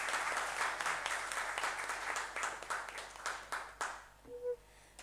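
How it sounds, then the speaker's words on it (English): Audience applause at a memorial lecture, a sustained patter of many hands clapping at moderate volume that thins and tapers off toward the end. "Please welcome her with a warm round of applause."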